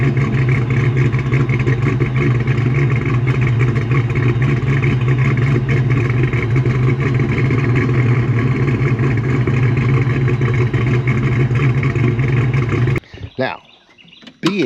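A Ford Fox Body built by Anderson Ford Motorsport, still original after 27 years, idles with a steady, even engine drone that fills most of the stretch before cutting off abruptly near the end.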